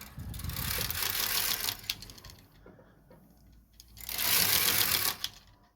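A knitting machine carriage runs across the needle bed knitting rows of boucle yarn, two loud whirring, clattering passes separated by a quieter pause with a few clicks, close by and without talk.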